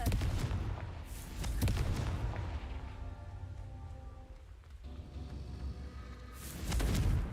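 A Confringo fire spell cast in Hogwarts Legacy bursts out as a couple of loud, booming blasts, one at the start and another at the end, with rumbling game sounds in between.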